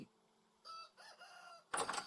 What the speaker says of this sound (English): Oh yes, and our chickens.